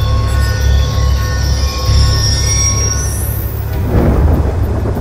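A train passes in the video game Call of Duty Black Ops II, a loud, close, heavy rumble with long high metallic wheel squeals that sweep upward and end in a rushing burst of noise.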